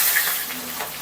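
Chopped onions go into hot oil already fried with sugar grains and cumin seeds in a home kitchen, giving a brief, steady hiss of sizzling.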